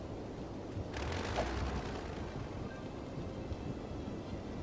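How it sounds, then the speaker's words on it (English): Thunderstorm in the video game Cities: Skylines Mass Transit on PS4: a steady, rushing wash of rain-like noise with a louder rumbling surge about a second in, then a continuous storm bed. "we've got a great storm coming in as well now"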